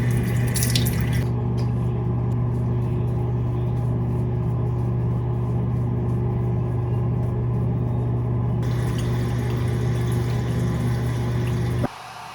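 Tap water runs steadily into a sink while lash extensions are washed, a constant close hiss and splash over a low hum, cut off abruptly near the end.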